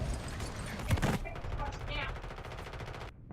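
Rapid bursts of video game gunfire crackle over a busy background in the first second, then fade into softer game sounds as a voice speaks nearby.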